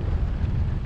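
A strong headwind buffets the microphone of a cyclist on a road ride, a loud, continuous low roar with no talk.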